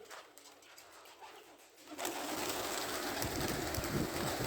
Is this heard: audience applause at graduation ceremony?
no